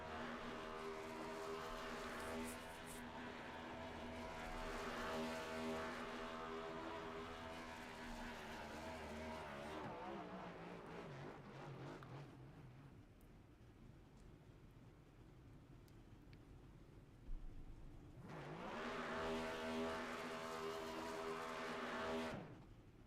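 Victory burnouts by the number 79 race car at Phoenix in iRacing: a loud, sustained engine roar that fades to a lower, quieter drone partway through, then surges back to full volume.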